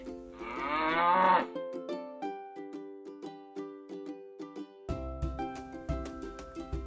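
A cow gives one long, drawn-out moo, then light, evenly spaced musical notes play on their own.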